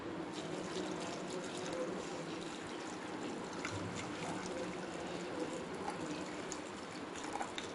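A boiled vinegar and water mixture poured over vegetables in a home kitchen for a paneer shawarma recipe, giving a steady close splashing, trickling stream that runs the whole time with no speech.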